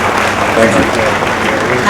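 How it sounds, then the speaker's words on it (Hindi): Dense, steady applause from an audience at an awards ceremony fills the whole moment, continuous and loud, with voices faintly mixed in. "ये तालियां रुकनी नहीं चाहिए।"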